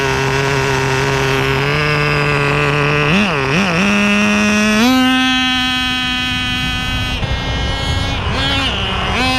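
A Thunder Tiger F-1 formula nitro RC car with a laydown engine runs loud and close, its high buzzing engine note holding steady, then rising in pitch with quick wavering revs before settling at a higher whine.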